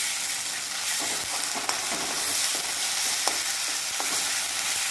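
Onions browned with asafoetida hiss steadily in a pan after ginger-garlic paste is added, a continuous close sizzle broken by a few scraping stirs.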